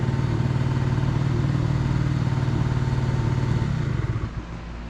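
A 1986 Honda Spree NQ50 50cc scooter engine idling hot at low revs, heard close as a loud, steady buzzing putter that drops off sharply near the end.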